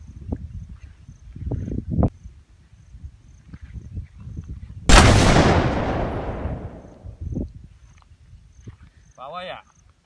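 Artillery fires during a joint army training exercise: a single loud, distant boom with a long rumbling decay, set among soldiers talking and quieter background noise.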